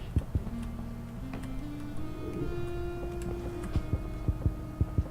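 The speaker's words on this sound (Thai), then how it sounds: "โอ้โอ้ใจเย็นหัวใจมันเต้นตึกตักตึกตักตึกตัก" A heartbeat pulses in the horror video game Lucius 2, with low, regular thumps that grow more prominent toward the end over a faint hum and tonal game ambience.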